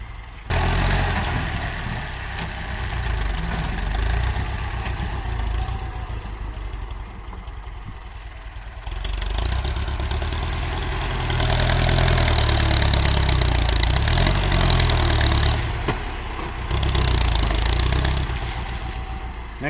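A Ford 7740 farm tractor engine runs at a steady idle with a low, heavy rumble, rising in intensity partway through, then settling, with no talk over it.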